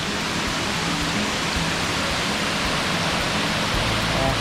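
A constant heavy rush of water tumbles down Arikkal waterfall, loud and nearby, steady from start to end, with a faint voice buried under the flow.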